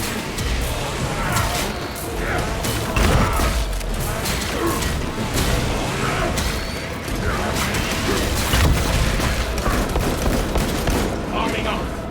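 Heavy battlefield gunfire from Warhammer 40k Space Marine 2 fills the whole stretch as a dense, continuous roar of shots, clanks and crashes, with occasional sharper bursts and voices mixed in.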